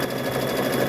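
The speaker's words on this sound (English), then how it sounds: "So now we're gonna come and sew here." A sewing machine runs continuously while stitching a quarter-inch seam, giving a steady, close, rapid mechanical whir with no pauses.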